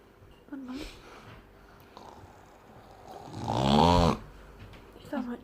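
A person snores while asleep, a slow rasping snore swelling once loudly in the middle with softer breaths on either side, faint and close, with some quiet voices in the background.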